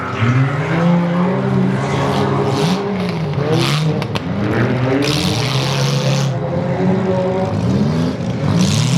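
Demolition derby cars race hard on a dirt track, engines revving loudly and continuously with shifting pitch as several vehicles battle through turns, with faint commentary under the roar.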